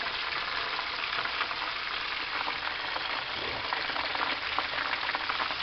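Buffalo wings frying in a pan of hot oil, a steady dense sizzle with fine crackling splatter throughout, close and continuous, no voices.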